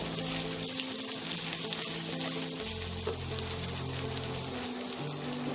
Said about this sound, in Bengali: পরিমাণ মতো হলুদ দিয়ে আমি এটাকে ভালো করে একটু নেড়ে নেব